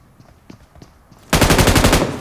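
After a near-silent stretch with faint taps, a loud, close burst of rapid automatic gunfire from PUBG Mobile rattles out for almost a second.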